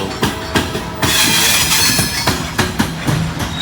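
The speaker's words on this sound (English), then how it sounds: "here comes that intermodal." An intermodal freight train rolls past on the old B&O line, loud and close, with its wheels clacking rhythmically over rail joints and a continuous metallic rumble between the beats.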